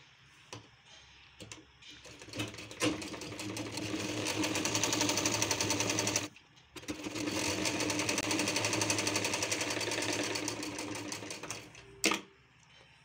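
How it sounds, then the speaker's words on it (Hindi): A sewing machine stitches along the bottom of a blouse back neck in two sustained runs of steady rapid clattering, close and clear, with a short stop between them and a brief thump near the end. "अब हम इसे यहाँ से नीचे के बॉटम में हम इसे स्टिच कर लेंगे बॉटम की फिनिशिंग के लिए"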